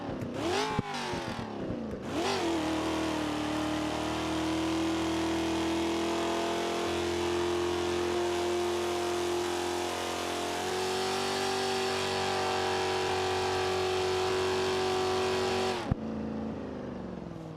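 A car engine in the BeamNG driving game revs hard and holds at high revs through a long burnout, its sustained droning tone climbing slightly partway through before cutting off abruptly near the end.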